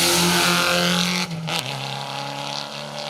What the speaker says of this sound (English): it sounded when it came into view, it was like it was maybe missing an exhaust, but maybe they just like the loud engine